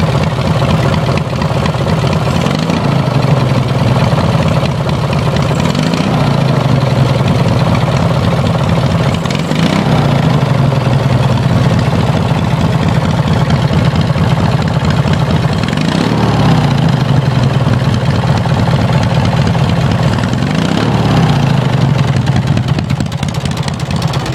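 A racing lawn mower engine idles with a steady, loud, close drone, rising in several brief revs at regular intervals before settling back to idle each time.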